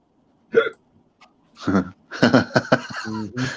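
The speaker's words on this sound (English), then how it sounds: "Didn't you just hiccup?" A sharp hiccup breaks the quiet, followed by people talking and laughing close by.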